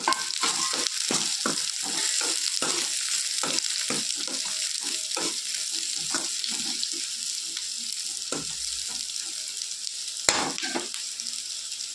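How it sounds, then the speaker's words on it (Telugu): Sliced onions fry in hot oil, a constant crackling sizzle broken by frequent scraping strokes of a spatula stirring the pan, close and clear, with no talking. "ఉల్లిగడ్డ ఫ్రై చేసుకుందాము ఇది మంచిగా గోల్డెన్ కలర్ రావాలి"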